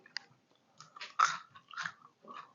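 Someone biting into and chewing a crispy crouton, a few sharp close crunches followed by quieter chewing, with no talk.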